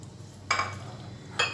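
Spices being worked into chicken in a bowl, with two short clinking, scraping strikes of a utensil against the dish over a low background hum.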